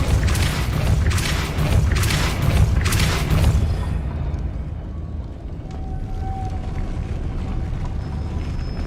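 Depulso spell cast in the video game Hogwarts Legacy, a series of deep, rolling booming thumps that repeat for several seconds before fading into a low rumbling ambience with a faint tonal hum.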